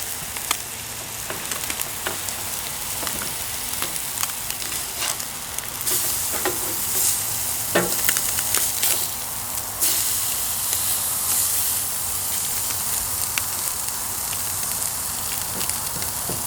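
Largemouth bass fillets frying in a hot pan outdoors, a loud, dense, continuous sizzle and hiss with occasional pops and clicks, close up and without talk.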